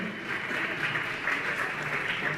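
An audience at a religious gathering applauds to honor officials of the Panchayat Sabha Bhopal, steady sustained clapping from a large crowd at moderate distance, with no voices over it.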